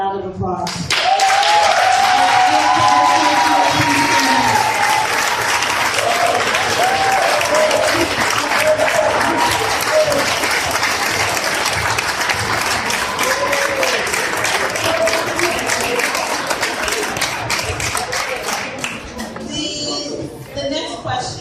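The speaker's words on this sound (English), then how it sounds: "please stand up so that we can also give you all a round of applause" An audience in a forum room gives the standing students a loud, sustained round of applause lasting about twenty seconds before it tapers off, with some voices mixed into the clapping.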